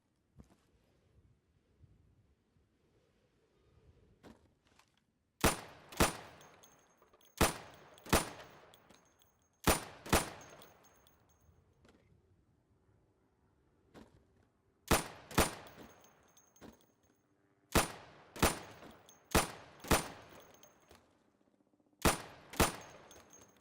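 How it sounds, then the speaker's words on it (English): Pistol sidearm gunshots fired at pop-up targets in the video game Insurgency, sharp loud single shots in quick bursts of two to four separated by short pauses, with no talk. "So you can shoot accurately over 20 feet with your sidearm."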